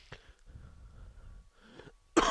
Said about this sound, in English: Sounds like a nice healthy cough